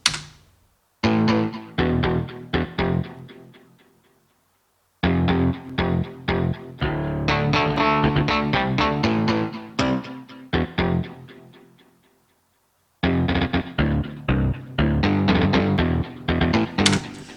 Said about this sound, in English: take individual notes, playing with pitch shifting and create your own melody